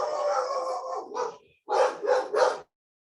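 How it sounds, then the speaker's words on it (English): A dog lets out a long drawn howl, then three sharp, loud barks in quick succession, close and alone before falling silent. "Sorry for the doggy outburst."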